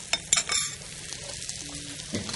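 Chopped onion sautés in a pan for a chicken and vegetable linguini, a soft steady sizzle with a few sharp scrapes and clinks of a utensil stirring near the start.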